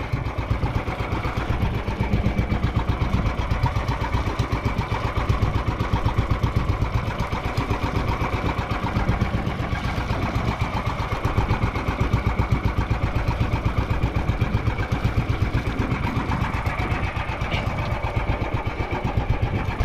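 A fishing boat's engine runs continuously, a loud, close, steady mechanical chugging with a rapid even pulse that holds for about twenty seconds without pause.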